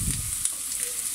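Chopped onions fry gently in a pan for spinach rolled börek, giving a steady close sizzle with small crackles and pops throughout.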